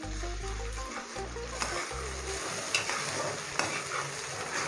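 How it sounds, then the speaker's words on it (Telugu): Ginger garlic paste is stirred and fried with onions in a pan, making a soft, continuous frying hiss with faint stirring scrapes and a low tonal hum at the start. "పేస్ట్ వేసుకున్న తర్వాత ఆ పచ్చి వాసన పోయేదాకా మనము దీన్ని ఫ్రై చేయాలి."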